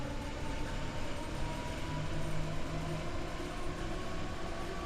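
A diesel electric freight train in Train Sim World 2 rumbles past at moderate distance, a steady low drone of engine and rolling wagons with faint rail clatter and no talk.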